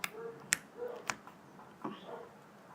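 Homemade slime makes a few sharp clicking pops, about four distinct snaps spaced roughly half a second apart, with soft squishy sounds between them, close and fairly quiet.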